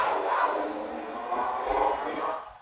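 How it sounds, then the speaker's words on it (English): A round of applause plays as a sound effect during a lower-body osteoporosis workout, a steady wash of crowd clapping and cheering that holds for about two seconds and then fades out. "We get a round of applause as well."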